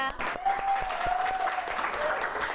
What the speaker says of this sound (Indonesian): give applause to Winda